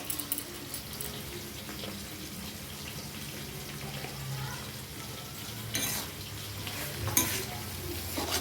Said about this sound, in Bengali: তারপরে আমার শাশুড়ির জন্য মাছ ভাজা বসিয়ে দিয়েছি, মাছ রান্না করবো।